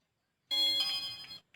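A telephone rings in a short burst of bright electronic ringtone that starts abruptly, lasts about a second and cuts off, heard clearly against silence.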